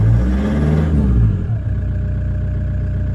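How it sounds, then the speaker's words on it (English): A cold car engine with a big, loud exhaust system revs hard once, a deep booming roar that falls away after about a second into a lower, steady idle rumble. "it's got a loud exhaust, it's got a big exhaust system."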